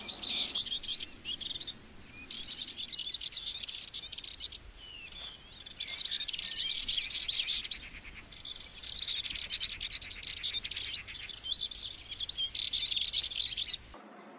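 Many wild birds sing continuously across a countryside plantation, including bullfinches, skylarks, turtle doves and Dartford warblers among forty-odd species, with dense overlapping chirps and trills close by.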